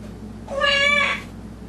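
A pet bird imitates a cat's meow with a single clear, loud, drawn-out call over a quiet background hum.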